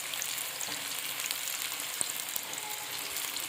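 Chicken popcorn in oil over medium heat gives a dense, continuous crackling sizzle, steady and close, with a few small pops and faint clinks.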